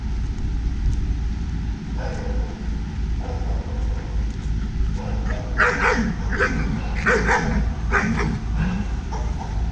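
A German Shepherd with an aggression problem barks in a string of loud, harsh barks over a steady roar of background noise, the barks coming in a rough, uneven rhythm.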